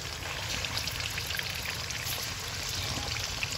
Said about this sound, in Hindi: अब हम लोग करेंगे चिकन फ्राई हल्का गोल्डन,